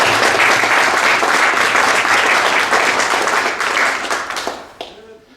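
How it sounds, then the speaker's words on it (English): Audience applause at a virtual reality talk at the DaVinci Institute: loud, dense clapping from a crowd that holds steady for about four seconds, then thins out and fades away at the end. "So let's give a big warm round of applause to Mr. Julian Lynch."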